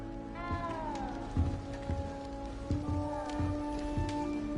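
A small frightened cat in Hogwarts Legacy meows a few times, a drawn-out wavering cry then another, over a steady background hum with soft knocks.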